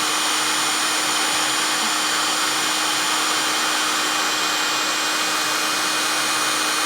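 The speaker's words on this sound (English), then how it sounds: "Heat gun." A heat gun blows steadily while heating a solder seal connector, a constant close, loud airy roar with a faint motor whine that holds unchanged throughout.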